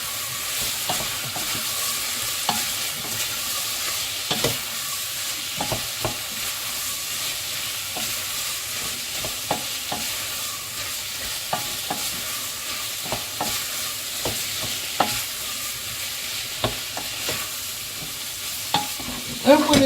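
Sweet potato and leeks fry in a pot for a Spanish sweet potato soup, a steady moderate sizzle with regular scraping stirs and light utensil knocks throughout, close and without talk.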